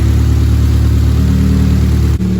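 A car engine idles steadily, a loud, even low hum and rumble with a faint whir, briefly dipping near the end.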